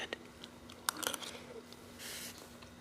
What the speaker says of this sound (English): crunchy eating noises